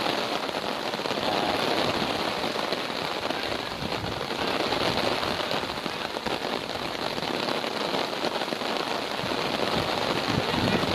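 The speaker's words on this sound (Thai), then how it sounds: "ฝนแรงมากแล้วครับตอนนี้ครับ" Heavy rain pours down at an outdoor football tournament in Bangkok, a dense, loud, continuous hiss of drops hitting surfaces that stays steady for the whole stretch.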